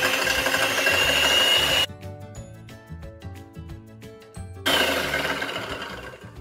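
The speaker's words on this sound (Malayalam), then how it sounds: "അപ്പം ഞാനിത് ഈ ഇലക്ട്രിക് ബീറ്റർ കൊണ്ടാണ് ഇത് ബീറ്റ് ചെയ്യാൻ പോകുന്നത്." An electric beater whirs steadily through coffee-cocoa cake batter, loud and continuous, cutting out for a few seconds in the middle before starting up again.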